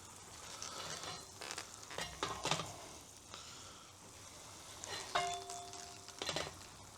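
Seafood paella with liquid bubbles and sizzles on a BBQ, a steady soft frying hiss broken by a few clattering scrapes and a brief metallic ring.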